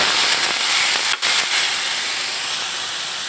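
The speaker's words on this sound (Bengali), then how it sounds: "এবার আমি মশলার মিশ্রণটা দিয়ে দিব" A ground paste of ginger, onion and green chilli with turmeric and chilli powder hits hot oil with a loud, continuous hissing sizzle that briefly dips and then resumes, no voices present.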